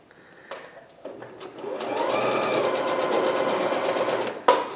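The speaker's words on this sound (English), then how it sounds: "drop my presser foot, begin sewing" A sewing machine stitches a straight line after a short start, its motor humming steadily close by with a fast needle rhythm until it stops with a final clunk.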